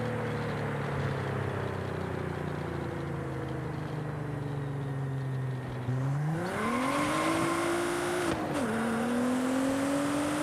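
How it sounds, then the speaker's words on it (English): Tuned car in Forza Horizon 5 peeling out in first gear, the engine droning steadily, then snapping up in pitch and climbing hard through a quick shift, loud and close with no talking. "It peels out in first gear now."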